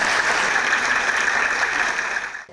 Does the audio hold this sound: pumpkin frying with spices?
no